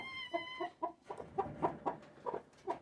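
A broody backyard hen lying on her nest gives a run of low, throaty clucks at an even pace, close and fairly quiet, opening with a brief higher call.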